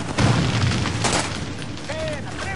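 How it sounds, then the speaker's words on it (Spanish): Grenade blast in the video game Army of Two: The Devil's Cartel, a loud booming burst early on during a firefight with shouting voices and ongoing gunfire around it. "¡Granada va!"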